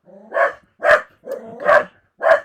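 Indoor pet dog barking protectively at a visitor at the door, five close sharp barks with brief whiny lead-ins between them, loud and alone without any talk.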